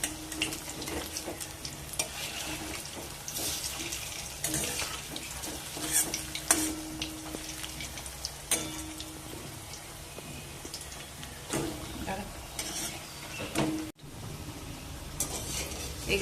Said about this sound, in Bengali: এক পিঠ হয়ে গেছে, এবার উল্টে দেবো আস্তে আস্তে।